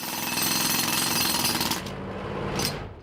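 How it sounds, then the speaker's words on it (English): A heavy 90-pound pneumatic jackhammer on a construction site pounds into the ground in a loud, rapid, continuous hammering burst that cuts off briefly, then returns for a short final blast; no talking. "It's about a 90-pound jackhammer."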